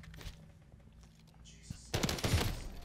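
An SVA 545 rifle fires in a video game, with a loud burst of rapid shots in the final second after quieter, sparse sounds; a voice may be present.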